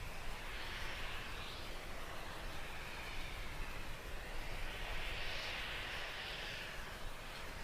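A SpaceX Falcon 9 rocket in flight through max Q gives a faint, steady, distant roar, continuous broadband rumble with slow swelling hiss, heard alone without talk.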